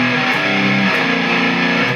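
An electric guitar with heavy distortion howls into sustained feedback, its wah pedal parked in the treble position, giving a loud, dense and unbroken wall of sound that lasts the whole two seconds.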